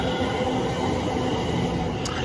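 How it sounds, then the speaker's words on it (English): A train rumbles at a railway station, a steady, loud, continuous rolling noise close by, with no voices. "That's the train we got on the way there."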